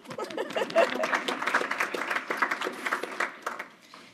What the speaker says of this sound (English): We can clap.